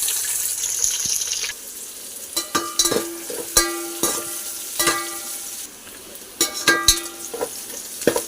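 Sliced onions fry with bay leaf and green chillies for chicken biryani, giving a close, steady sizzle punctuated by repeated metallic spoon scrapes and clanks against the pot. A short quieter pause comes partway through before the stirring resumes.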